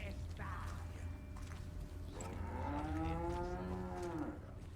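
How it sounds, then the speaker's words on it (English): A cow in the video game Resident Evil 4 lets out a drawn-out moo. A creaking mechanical sound and a low ambient drone come just before it. "Did the cow just alert them?"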